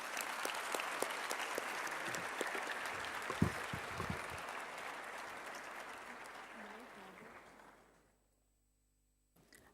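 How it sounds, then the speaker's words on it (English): Audience at a pinning ceremony during a scientific symposium claps in a sustained, dense burst for about eight seconds before it abruptly stops. "Let's have a round of applause."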